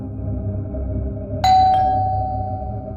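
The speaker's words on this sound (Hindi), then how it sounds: "तुम्हें डोरबेल सुनाई नहीं दे रही?" An electronic doorbell chimes once in a household drama, a sharp onset ringing into a steady sustained tone over soft background music.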